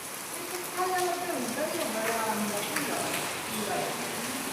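Steady rain hiss runs throughout while a person talks over it.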